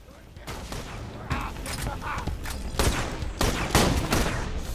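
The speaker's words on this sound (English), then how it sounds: "Where are we shooting? Everywhere." Rapid bursts of gunfire from the Borderlands 2 video game crackle in repeated volleys, loud and dense, with players talking over the shooting.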